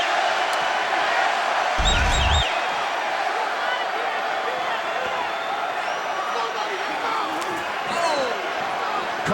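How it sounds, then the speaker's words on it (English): Dense UFC arena crowd roaring and chanting the name Diego late in the third and final round of a fight, a steady loud wall of voices with a brief low thump near the start. "The crowd's chanting Diego."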